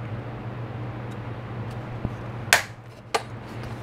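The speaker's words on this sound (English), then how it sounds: "Now I'm going to punch a hole in the center for my hanger up here at the top" A hole is punched in a flat paper Christmas bag tag, giving a faint tap followed by two sharp, close clicks of the punch about half a second apart over a quiet room hum.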